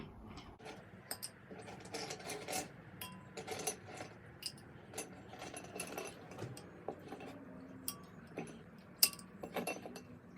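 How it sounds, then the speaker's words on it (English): Ice cubes dropped one after another into a bowl of water for a salt-and-string ice-fishing experiment, giving a steady run of sharp clinks and clacks at close range. "Then you put ice cubes into a bowl."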